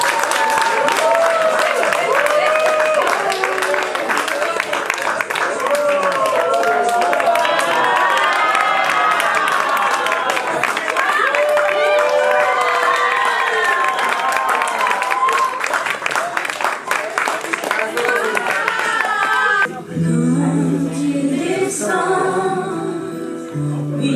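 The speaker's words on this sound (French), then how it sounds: "je vous demande vraiment d'acclamer nos petits anges" An audience at a children's Christmas show bursts into sustained applause and cheering for kids dressed as angels, loud clapping and shouts filling the hall for about twenty seconds before dropping away to quieter murmurs and music.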